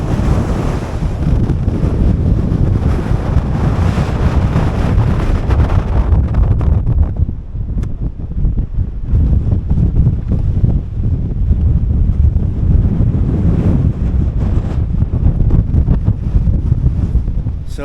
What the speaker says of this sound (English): The wind's pretty bad